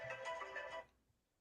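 A mobile phone ringtone plays as a short, bright melodic burst lasting under a second, then cuts off into near silence.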